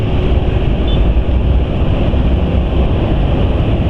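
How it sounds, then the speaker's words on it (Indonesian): A Suzuki Nex II scooter on petrol with a white fat additive idles nearby, its quiet exhaust giving a continuous low rumble with an even, unchanging hiss. "Jadi suara knalpot walau senyap pun ada bedanya ya"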